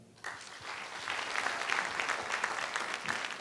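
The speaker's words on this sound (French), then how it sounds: "je crois que le public même doit applaudir ça" An audience claps for contestants at a televised music competition quarter-final, the applause starting suddenly and continuing as a dense, steady ovation from a mid-sized crowd.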